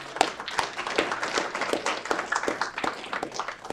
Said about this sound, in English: a round of applause for Fleet Maintenance making things happen here in Aurora